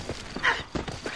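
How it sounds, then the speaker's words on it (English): Horse hooves clop in a short, uneven rhythm in Red Dead Redemption 2, and a brief whinny-like call rises in the middle. The sound is close and moderately loud, with no speech. "I found him, he's the horse."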